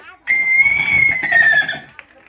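A horse whinnies loudly and close by for nearly two seconds, its high, wavering call sliding downward at the close, heard at a village school's annual day celebration.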